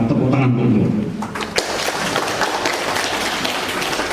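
Audience at a press event breaks into applause, a dense burst of clapping that carries through the short stretch, with some voices mixed in.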